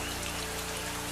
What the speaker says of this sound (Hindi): तभी अचानक बारिश शुरू हो गई।